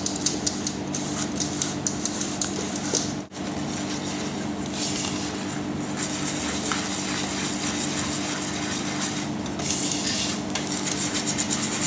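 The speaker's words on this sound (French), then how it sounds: "Ensuite on y ajoute le sucre glace. Tamisé." Icing sugar being sifted, a continuous dry rasping rub held close and steady for several seconds with a brief pause early on, no talking.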